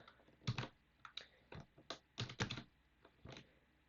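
Keys clatter on a computer keyboard while code is cut and pasted, with quiet bursts of clicks and short pauses between them.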